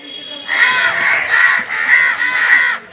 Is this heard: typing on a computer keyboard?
no